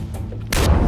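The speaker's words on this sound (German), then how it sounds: "den will ich ordentlich mit der Pumpgun geben" A pump shotgun fires in the video game Far Cry 4 during an arena fight: a single loud, sharp blast that cuts in abruptly after a quieter stretch.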